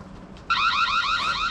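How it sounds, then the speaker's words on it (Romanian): A car alarm starts suddenly and sounds loud and close, with a rapid warbling electronic siren rising and falling in quick repeated sweeps after a moment of quiet background. "Alarma face puțină gălăgie."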